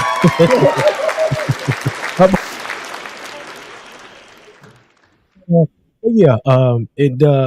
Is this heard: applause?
yes